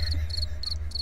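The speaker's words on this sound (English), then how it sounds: "Crickets? Come on!" Cricket chirping sound effect: four short, bright chirp bursts in a regular rhythm, close and clear over a low hum.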